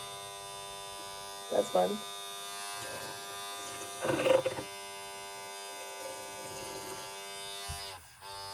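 A Styl Pro makeup brush cleaner spins a brush with a steady electric buzz, close and continuous through the clip, while someone speaks over it in brief bursts before the motor cuts off near the end.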